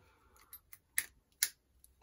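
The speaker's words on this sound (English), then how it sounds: "Let's see if I can cut it off." Snips from cutters clipping a stuck spring off a circuit breaker, a few sharp, close clicks spaced irregularly over two seconds in a quiet room.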